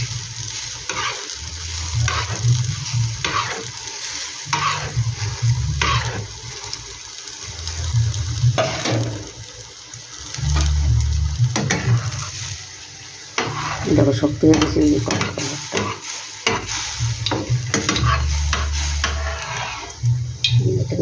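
Potato paratha frying in oil in a pan, a steady sizzle with scraping and stirring noises running throughout under intermittent speech.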